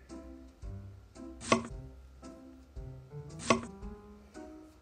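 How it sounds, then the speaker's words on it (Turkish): Knife chops vegetables on a cutting board in two quick bursts of rapid strokes, close and crisp, with quieter pauses between them. "Bunu da önce doğrayalım."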